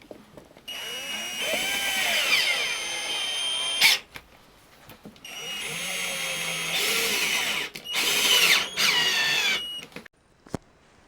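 A power drill drives long screws through a Bestar wall bed frame into wood panels, in two long whirring runs whose pitch rises and falls as each screw goes in, separated by short pauses and clicks.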